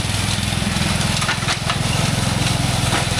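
A riding lawn mower engine runs steadily and close by on a rural property, a continuous low mechanical drone with a faint rattle and no break across the clip.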